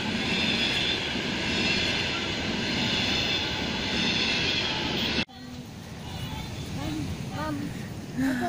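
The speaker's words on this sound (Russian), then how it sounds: "Поезд двухэтажный поехал, Зоя." A loud, steady roar of a passing double-decker train fills the first few seconds, then cuts to quieter outdoor ambience with faint voices.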